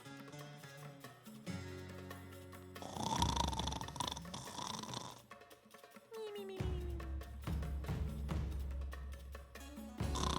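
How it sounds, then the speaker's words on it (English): Snoring from somewhere overhead, rendered as a fantasy tabletop game sound effect: several drawn-out rumbling snores mixed with music, rising and falling in waves and fairly loud throughout. "You hear snoring coming from up above."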